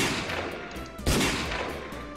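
A flare gun shot into the sky in a zombie survival shooter game, one sharp crack near the middle over an ongoing bed of game noise.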